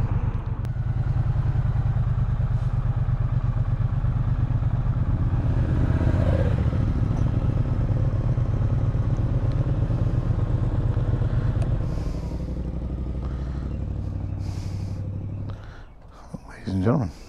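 A 2023 Triumph Bonneville T120 motorcycle engine while riding, heard as a loud, steady low engine drone with wind rush that eases and drops away near the end.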